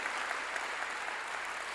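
A church congregation claps together to give glory to God, a dense, steady wash of applause held at an even level throughout, heard somewhat distant and without voices.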